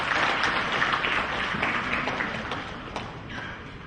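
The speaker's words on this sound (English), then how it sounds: "Ladies and gentlemen, and we have a big round of applause to our dignitaries." Audience applause for dignitaries at a 2015 world construction symposium, a steady dense wash of clapping filling the hall at moderate level throughout, with a few sharper individual claps standing out.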